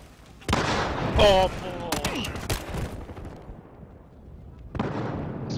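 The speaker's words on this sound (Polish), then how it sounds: "Rzucam bombę zapalającą!" An incendiary grenade in an esports video game match sounds amid other in-game gunfire, with sharp shots and bursts and a crackling burn, while a player talks over the action.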